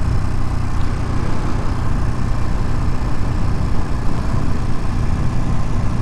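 A motorcycle engine runs steadily nearby with a constant low rumble and no notable revving or speech.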